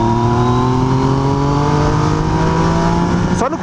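A motorcycle accelerates hard with a loud, continuous rising engine roar held close, then snaps through a quick-shifter upshift near the end.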